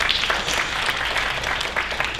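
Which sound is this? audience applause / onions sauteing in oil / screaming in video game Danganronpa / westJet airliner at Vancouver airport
audience applause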